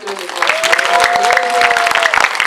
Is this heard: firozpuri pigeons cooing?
no